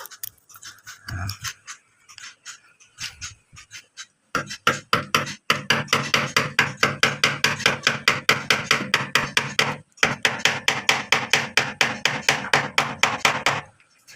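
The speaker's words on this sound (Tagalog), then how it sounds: "Yung gamit ko drill dito, walang hammer." An electric drill with hammer mode off bores into a soft wall while a shower heater is being installed. It gives a close, loud, fast, steady rattle in two long runs split by a short pause, after quieter handling knocks.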